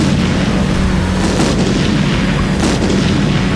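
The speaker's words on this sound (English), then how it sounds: "the Joker unleashes a series of large colorful balls, which explode one by one" Explosions rumble through a car chase in an audio drama, a constant, loud, deep roar of blasts with bursts that swell and overlap, and no clear gaps between them.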